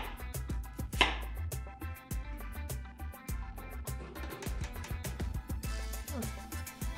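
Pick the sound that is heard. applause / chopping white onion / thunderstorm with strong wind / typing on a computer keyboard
chopping white onion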